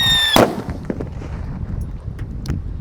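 A jumbo Pearl Thunder firecracker set off inside a PVC pipe, heard as one sharp, loud bang with a hard crack, followed by crackling echoes and scattered pops fading over a couple of seconds.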